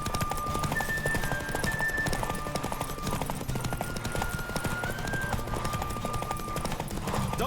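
Horse hooves clip-clop at a steady gallop in The Witcher 3 during a race, with a brief whinny amid constant game music and ambience, moderately loud throughout.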